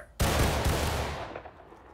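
A musket volley from a line of soldiers firing together in War of Rights during drill practice: one loud, sudden crack that rolls out into a long, fading rumble, with no voices.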